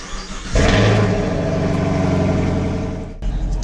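A 2021 Chevrolet Camaro SS engine cranks and fires up close by, settling into a loud, rumbling idle before cutting off abruptly near the end.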